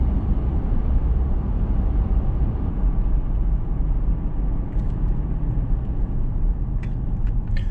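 A car rolls along a gravel road through farmland at night, producing a steady low rumble of tires and engine from inside the cabin, continuous with no speech.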